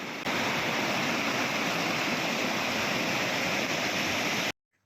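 Son river rushing through a mountain valley, a dense, steady roar of fast-flowing water filling the soundscape, loud and close, before cutting out abruptly at the end.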